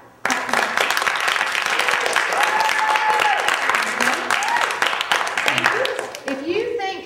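Studio audience at a game show claps to vote for contestant A, a dense, loud wash of applause rising abruptly and sustained for several seconds, with a few voices and an instrumental sting underneath near the end.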